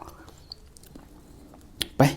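Chewing on a Thai strawberry, a not-very-sweet local variety: quiet, close mouth sounds through most of the moment, then a couple of sharper, louder bite-and-squish bursts near the end.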